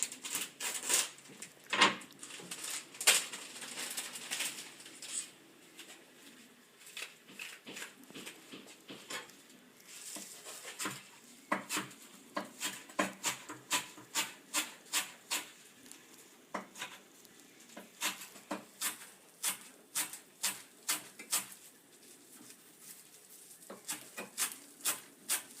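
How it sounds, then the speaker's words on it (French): A knife chops chives finely on a cutting board, giving a quiet series of quick, irregular taps that cluster into rapid bursts, with faint kitchen noise between them and no speech. "Essayez de hacher la ciboulette assez fin."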